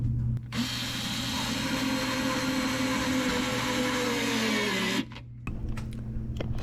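A power tool drives a screw to secure an over-the-stove microwave, a steady loud motor whine running about five seconds before cutting off, with faint clatter after.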